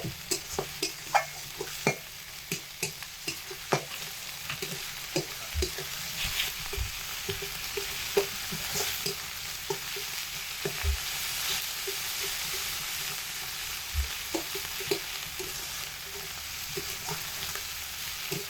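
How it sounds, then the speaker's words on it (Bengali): Spices sauté and fry in a pan for a potato and egg omelette dish, with a continuous close sizzle and regular scraping and tapping of a stirring spoon throughout, no voices. "খুব সুন্দরভাবে কষিয়ে নিচ্ছি কষাতে একটু সময় লাগবে"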